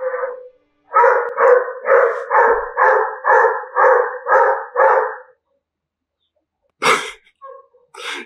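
A dog in the anime Kuroko no Basket barks in a quick, steady run of about eight loud, close barks, then falls silent before a few more short barks and sniffs at the end.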